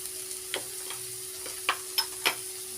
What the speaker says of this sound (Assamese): এতিয়া মই খুব ভালদৰে লৰাই ল'ম, আৰু অকণমান সময় মই সিজিবৰ কাৰণে দিম